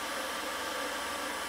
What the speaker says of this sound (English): All right, June, you're going to get a little startled, but you don't mind the vacuum at all, so you're okay